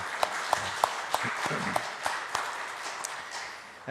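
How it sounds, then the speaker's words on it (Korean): A church congregation gives thankful applause during a Sunday service announcement, with a steady spread of many hands clapping in a reverberant sanctuary and a few sharper nearby claps standing out. "감사의 박수를 한번 보내주시기를 바랍니다"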